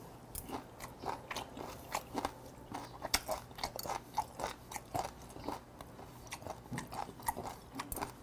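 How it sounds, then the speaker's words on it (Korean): Close, crunchy chewing of raw mudskipper dipped in traditional doenjang with sesame oil, heard as irregular wet bites and crunches repeating about twice a second at a quiet level, with no talking. "지금 제가 이쪽으로만 씹고 있죠?"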